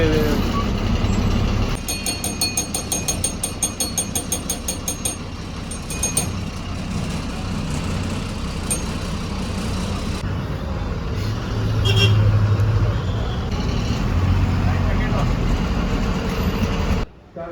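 A KSRTC Super Deluxe bus on the Kochi-to-Velankanni route rumbles steadily from inside, with a rapid run of electronic beeps early on and passing louder swells, while people talk over the drone.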